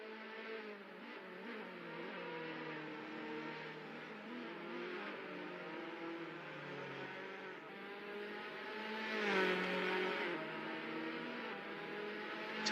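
Race cars in the NZ SuperLap virtual racing game run at a steady, continuous engine drone, holding pitch with slight shifts and a brief louder surge near the end, with no voices.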